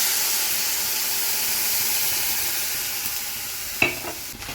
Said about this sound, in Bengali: এবার একটু জল দিয়ে দিব, গরম জল।